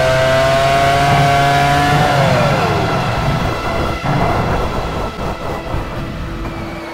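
A Formula One car engine in the PS2 game Formula One 99-02 drones loudly and steadily, then its pitch sweeps down as the car spins out, leaving rough, rumbling tyre and engine noise.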